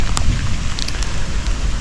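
The first rain of 2023 falls on a farm, a dense, steady patter of drops on soil and leaves with a few sharper close splashes, heard alone.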